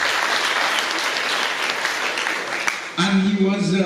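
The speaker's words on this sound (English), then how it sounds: "Clap for him." Applause rings out for a software company CEO at a school alumni donation event, a steady crowd clapping for about three seconds before a voice takes over.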